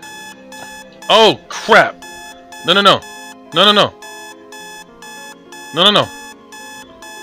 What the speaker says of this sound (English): Shut up, you stupid alarm.